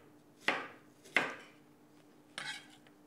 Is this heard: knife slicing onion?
yes